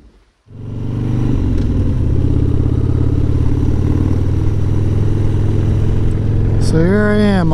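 A motorcycle engine starts and settles into a steady, loud, close rumble that runs without letup, with a short rising electronic tone near the end.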